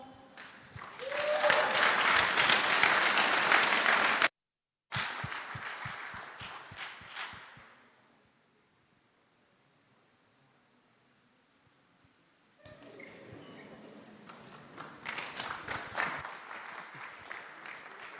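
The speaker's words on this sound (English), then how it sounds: "let's give the kids a big round of applause there" An audience claps for children who have just sung at a project launch event in Jamaica, a strong burst of applause that stops abruptly, resumes and fades, then a near-silent gap before clapping returns.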